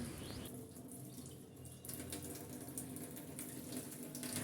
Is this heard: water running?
yes